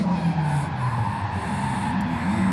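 Car drifting at Lebanon Valley, with a loud continuous tire squeal and engine roar held close for the whole stretch, no voices over it.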